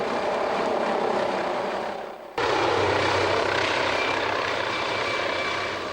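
A police helicopter hovers at a distance in East Sussex, droning steadily with a deep rotor throb, briefly dipping before resuming loud and continuous.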